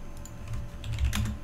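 Computer keyboard typing in short bursts of clacking keystrokes, close and fairly quiet, with no one talking.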